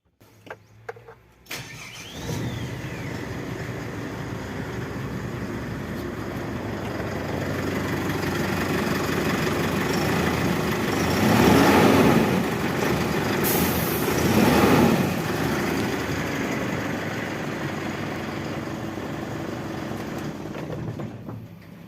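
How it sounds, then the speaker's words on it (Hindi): An Ashok Leyland Partner Super 914HL six-wheel BS6 truck with a 20 ft deck starts up with a short cranking burst, then settles into a steady close diesel idle. Two brief revs rise above the idle. "अभी इंजन को स्टार्ट कर इंजन के साउंड सुनाएंगे।"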